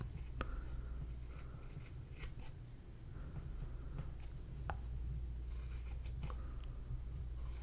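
Scissors snip repeatedly through sewn fabric pieces for a handmade soft rabbit, quiet close crisp cuts spaced irregularly over a low steady hum, no talking.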